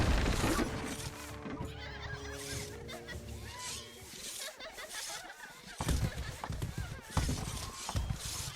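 Horses neigh and whinny amid a medieval battle in the real-time strategy game Stronghold Crusader, with clattering hooves and other game noise layered together. Several whinnies are prominent, and a voice talks over parts of it.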